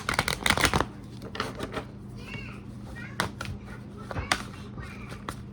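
A deck of tarot cards is shuffled close up, with a burst of rapid riffling flutter at the start followed by softer, scattered card slaps and shuffles over a quiet room hum.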